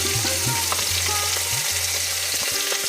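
Koi fish frying in hot oil, a steady close sizzle with faint stirring and clinks of a utensil, no voices.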